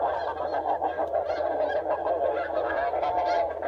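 Geese honking and calling during a goose hunt, a loud, close chorus of overlapping nasal honks repeating rapidly and continuously with no talking.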